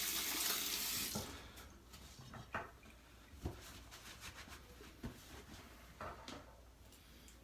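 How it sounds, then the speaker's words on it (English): Hands rinsed under a running tap during a beard-care routine: a loud rush of water for about a second, then it stops and soft knocks and handling noises follow. "Rinse my hands off."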